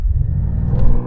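BMW M4 engine rumbling and revving hard on a brake-boost launch, a loud, close, sustained low roar building over about a second.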